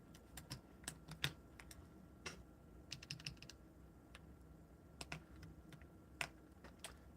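Keys on a modded LEGO-style mechanical keyboard kit, fitted with PE foam and a faulty stabilizer, clatter in quick irregular bursts of clicks and taps, fairly close and quiet, with a slight ticking quality and no voices.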